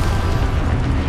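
Confringo spell explosion in the video game Hogwarts Legacy, a single loud, deep boom lasting about a second.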